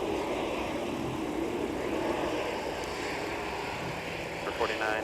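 Steady engine rumble of a United airliner taxiing on a taxiway at Minneapolis–Saint Paul airport in winter, continuous and fairly loud, with voices talking over it.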